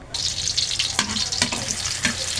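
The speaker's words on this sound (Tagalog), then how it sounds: "pero magigisa muna tayo ng mga bawang sibuyas" Garlic and onions sauté in a hot pan for ginisang pechay, giving a steady close sizzle broken by a few sharp knocks of a utensil stirring against the pan.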